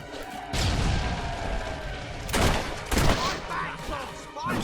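Gunfire in the video game Fable 3 cracks out in several loud bursts, a few close booming shots over a busy background of game noise and a voice.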